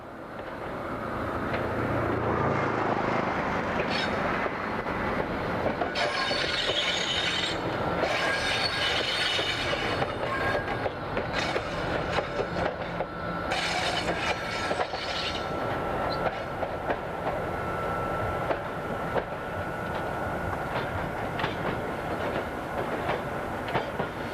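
French SNCF BB26000 electric locomotive 26019 hauls a Paris–Toulouse passenger train across the Souillac viaduct as it slows for the station, giving a steady, loud rolling rumble with rail clatter and wheel squeal throughout.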